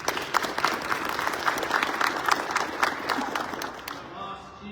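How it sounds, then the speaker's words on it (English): Sustained audience applause at a retirement ceremony, a dense room full of clapping that holds steady and then thins and fades out near the end. "Will you please join me in giving them a round of applause?"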